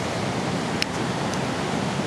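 Storm surge at the seashore: a steady, loud wash of broadband surf noise that fills the whole clip without any break, with a brief faint click near the middle and no voices.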